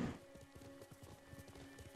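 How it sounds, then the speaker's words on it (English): Horse hooves clip-clop in a steady run with a brief whinny at the start, from the video game Ghost of Tsushima, set over a constant game ambience and music. "That's why I call the horses, because that's what the noise they make is Nay."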